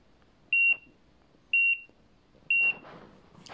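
Three short, high electronic beeps at an even one-second interval from a Black Diamond Recon LT avalanche transceiver, followed by faint rustling and handling noise.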